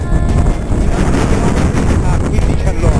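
Strong wind buffeting a microphone outdoors during a windy cycling day, a loud, constant low rumble with gusty surges throughout.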